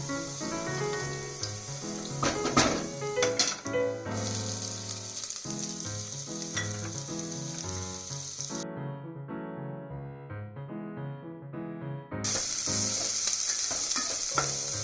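Onions added to browned garlic frying in a pan, a strong, steady sizzle with stirring clatter and some running-water sounds, one stretch briefly dulled before the full sizzle returns, no voices.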